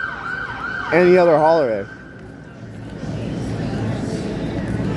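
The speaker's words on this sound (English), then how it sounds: "Sirens, always sirens going on." An emergency vehicle siren wails briefly on a busy Waikiki street on Halloween night, its rising-and-falling tone passing under a person talking, then fading into the steady hum and chatter of the crowded street.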